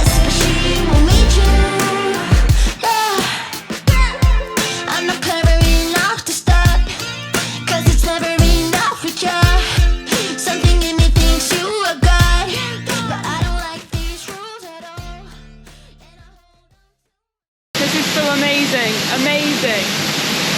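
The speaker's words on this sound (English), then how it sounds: "So there is quite a lot of space behind the waterfall." A waterfall in the Brecon Beacons' Waterfall Country, heard from the space behind the falling water, gives a loud, steady rushing roar that drops away near the end and then returns.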